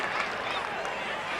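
A large crowd at a rugby league match against the St George Dragons cheers and applauds a tackle, making a steady, dense roar of voices and clapping for a brief moment.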